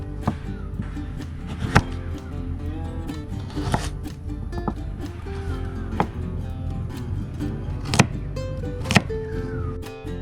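A knife chopping carrot on a cutting board, a series of sharp, irregular taps close by, some louder than others, over faint background clatter.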